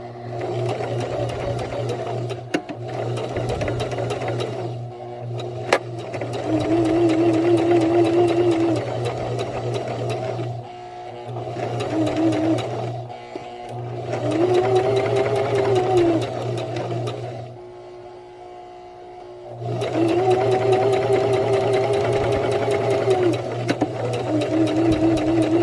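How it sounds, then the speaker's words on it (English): A sewing machine runs a straight stitch along the arms of a fabric scarecrow gnome, whirring in several long bursts with brief pauses between them, loud and close with no speech. "now I'm going to go ahead and sew the arms of my Scarecrow Gnome, and I'm back on the straight stitch"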